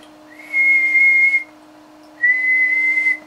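An audio test tone keyed through an Amp Supply LA-1000A sweep tube linear amplifier with four 6LQ6 tubes, heard as two separate steady whistling beeps, each about a second long, over a faint constant background hum.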